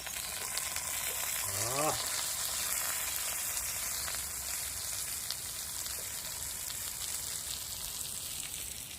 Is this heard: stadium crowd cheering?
no